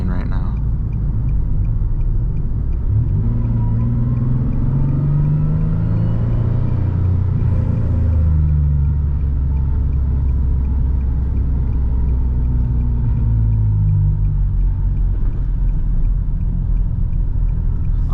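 A turbocharged Nissan 370z engine rumbles low and steady from inside the car while driving in heavy traffic, a continuous deep drone with shifting harmonics and a slight swell near the middle, with a voice talking over it.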